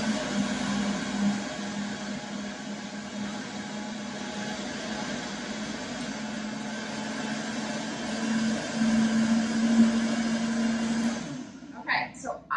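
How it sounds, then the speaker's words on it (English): A blender whirs continuously for about eleven seconds as it purees gazpacho, a loud, steady motor drone close by, before cutting off near the end while a person talks over it. "Are you ready to spin? Are you ready to blend?"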